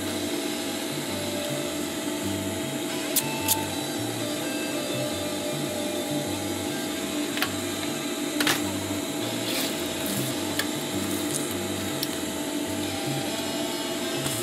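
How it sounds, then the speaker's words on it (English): A sewing machine runs steadily, box-stitching 10 cm webbing for a DIY chest pouch, its low mechanical whir pulsing in a continuous rhythm for the whole stretch, with a few faint clicks and no talking. "You want to place that like that and sew a box shape stitch."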